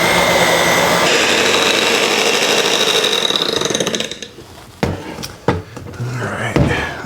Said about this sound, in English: let's get this incorporated a little bit with the mixer